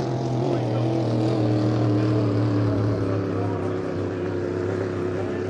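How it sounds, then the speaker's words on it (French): A newly installed racing boat engine at the Valleyfield regatta in 2025 gives a loud, steady, droning roar with a strong low hum that holds evenly throughout. "qui a mis un nouveau moteur ce matin dans cette embarcation"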